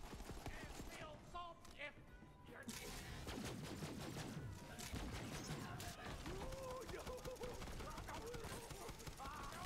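Rapid gunfire from Moxxi's gun in Borderlands 3, dense repeated shots over constant game sound and a talking voice throughout.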